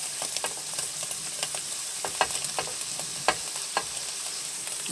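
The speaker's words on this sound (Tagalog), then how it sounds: "May mantika na. So, i-add na natin ang sibuyas." Chopped onion frying in hot cooking oil for spaghetti, a constant bright sizzle crackling close by, dotted with sharp pops and spatula scrapes, no talking.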